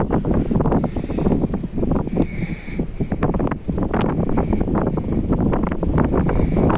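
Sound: strong wind blowing at the harbor

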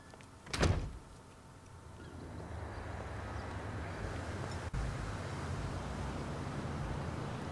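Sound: car door closing in the video game GTA V

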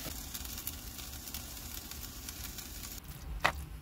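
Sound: food frying in one pan on a van stove

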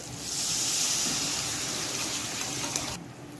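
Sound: water poured into pan of fried spices

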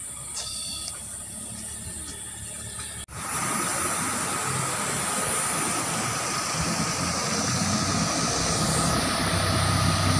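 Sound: motorcycle passing by on a roadside

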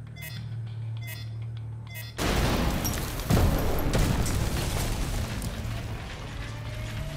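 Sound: explosion causing a cave-in, from the video game The Division 2

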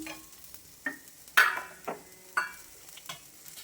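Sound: sautéing coconut in a pan

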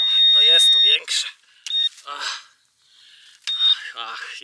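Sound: metal detector pinpointer beeping signal

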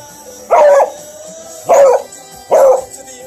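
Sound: dog barking

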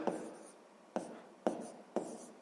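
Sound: writing down a maths solution

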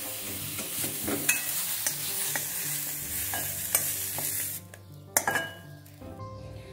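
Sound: sautéed onion being scooped out of a kadhai

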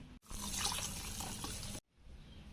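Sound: milk being poured into semolina and sugar mixture

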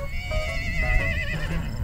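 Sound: horse neighing

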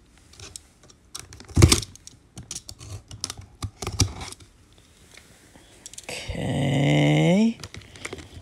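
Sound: cutting open a big cardboard box

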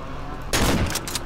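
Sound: shotgun firing in the video game Cry of Fear

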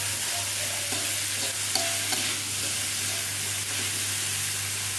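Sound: green beans stir-fry being stirred in a pan

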